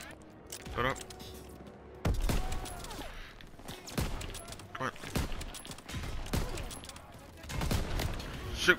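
In the Call of Duty: WWII story campaign, a gun fires repeatedly during a hectic battle scene, giving sharp, loud reports at irregular intervals over a dense rumble of combat noise.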